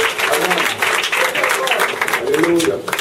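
A church congregation applauds and cheers during a deliverance service, dense clapping that holds steady through the moment, with voices mixed into the crowd noise.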